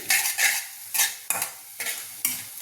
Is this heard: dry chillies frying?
yes